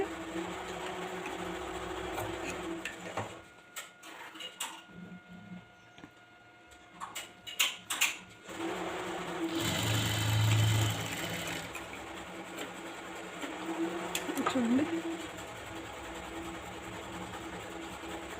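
Sewing machine stitching a blouse, running in steady rhythmic bursts with a brief pause in the middle, close up and alone without talk.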